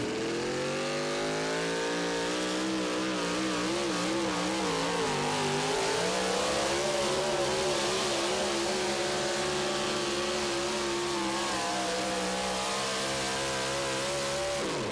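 Four wheel drive pulling truck with a Profab gearbox at a tractor pull at the Dairyland Super Nationals in Tomah, Wisconsin, its engine roaring loud and continuous, pitch rising and wavering as it bounces down the track.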